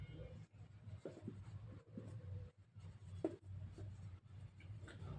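Pen writing out a class 10 maths solution on volume, soft continuous scratching strokes close by with short pauses between words.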